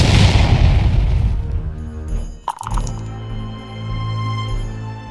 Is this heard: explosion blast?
yes